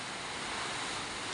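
Heavy monsoon rain and strong habagat wind roar as a dense, continuous wash of broadband noise, steady and close throughout with no talking.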